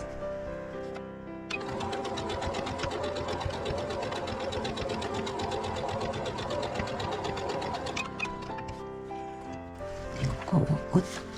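Sewing machine stitching together patchwork fabric pieces, a steady rapid mechanical whirr running continuously at close range for most of the clip, stopping near the end with a few handling clicks.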